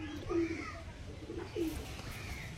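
Kalanka pigeons coo softly in low, rolling calls, two main bursts close by over a faint background murmur.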